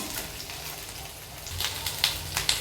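Onions and green chilies fry in a pan while being stirred, a soft sizzle with a few sharp scraping taps toward the end, no talking.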